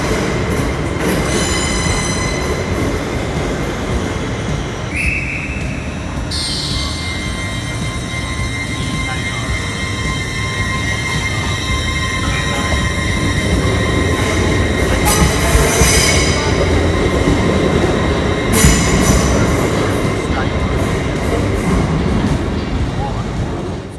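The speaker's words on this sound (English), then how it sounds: "I'm here in Newcastle train station, waiting on a train" A train at Newcastle railway station rolls and rumbles through the platform, with high metallic wheel squeals and screeches rising and fading repeatedly over a continuous loud rolling noise.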